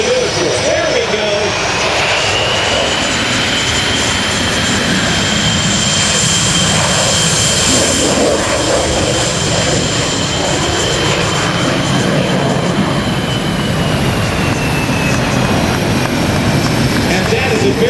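A military jet taxis slowly at an air show, its engine producing a steady loud roar with a high whine held over the whole stretch, and voices can be heard in the crowd.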